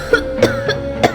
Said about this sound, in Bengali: বুকের পাঁজর ভেঙে আসা সেই ফাঁপা কঙ্কাল সার কাশির শব্দ।